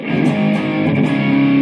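A distorted electric guitar rings out in a continuous, gritty sustained passage, loud and up front with no voices.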